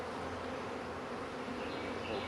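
Honey bees buzz steadily and close by as a new package is hived in spring, a dense continuous hum with no voices over it.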